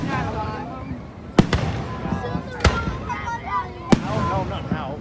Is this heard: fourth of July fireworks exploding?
yes